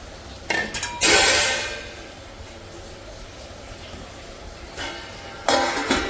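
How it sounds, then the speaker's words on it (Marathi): A lid is set on a pot of soaking food in a home kitchen. A short clattering metallic clink sounds early on and another comes near the end, with quiet room noise between them. "आणि झाकण ठेवून देते"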